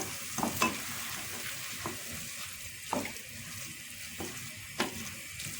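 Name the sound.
stirring bulgur with sauce in a sizzling pan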